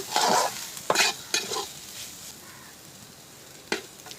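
Spices stirred into vegetables in a pan for egg momo filling, with a few distinct close scraping strokes of a spoon and light sizzle between them, then a quieter pause and one last scrape.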